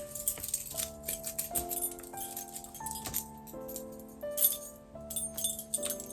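Keys tucked inside a sock jangle and clink in soft, muffled bursts, close and fairly quiet, over a background of steady tonal music.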